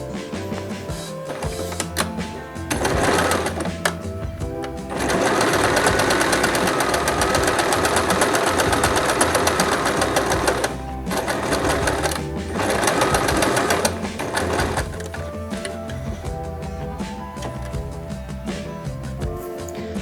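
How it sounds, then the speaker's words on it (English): A sewing machine stitches fabric rectangles for upcycled thrifted clothing in quick rattling bursts, with a long continuous run in the middle and shorter stop-start runs before and after, heard close up. "then I'm gonna put them right sides together and then sew them under my machine"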